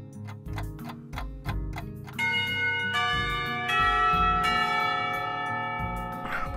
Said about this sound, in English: Before long, the final bell rings.